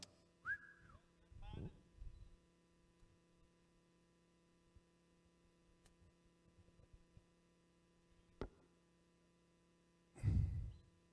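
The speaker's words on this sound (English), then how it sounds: "Whistle is blown." A referee's whistle in a field hockey match between FG and Olympia gives one short, faint blast near the start. Soft thuds and a steady low hum follow in a quiet background.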